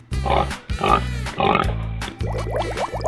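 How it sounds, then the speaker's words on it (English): A cartoon piglet in a 3D animal slide video game gives a run of short, bright oinks and squeals, several close repeated calls over a steady game background with no talking. "Piglet."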